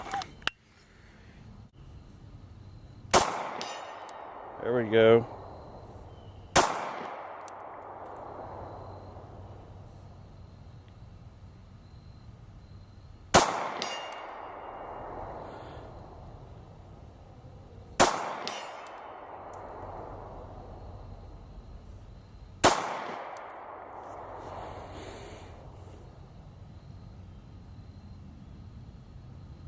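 Sig Sauer P320 Compact .40 S&W pistol shots ringing a steel gong outdoors: five or six sharp loud reports spaced several seconds apart, each with a lingering metallic decay, plus brief talk between shots.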